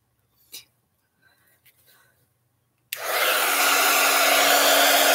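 Hair dryer switched on to dry a piece of artwork, a loud steady blowing whoosh starting abruptly after a few quiet handling sounds and continuing to the end.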